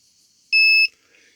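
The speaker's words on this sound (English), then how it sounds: "So you're just going to hear it beeping." A Circuit Detective HTP-6P breaker finder gives a single short, sharp electronic beep, clear and close against near silence.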